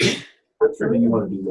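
A single sharp sneeze bursts out at the start, loud and close, followed by a short pause and then a person talking.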